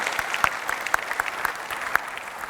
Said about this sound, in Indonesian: Kita kasih tepuk tangan untuk Ferry Juliantono.